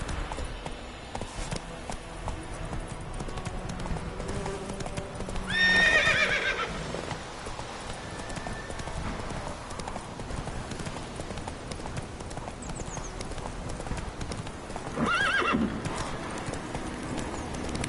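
A horse in The Witcher 3 gallops with steady clip-clop hoofbeats under game music and ambience, and it gives two loud whinnies, one near the start and one near the end.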